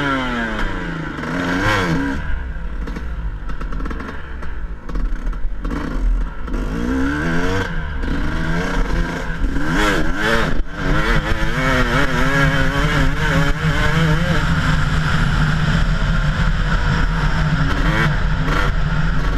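An engine started on choke, then revved repeatedly, rising and falling in pitch over a rough, loud idle with some clatter, close by and continuous.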